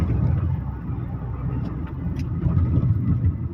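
Mahindra XUV700 SUV cruising at high speed on an open road, a steady rumble of engine and road noise holding close and loud throughout with no talk.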